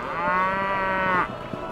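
A bull lows in one long, loud, tonal moo that lasts about a second and then breaks off. Faint low rustling continues after the call.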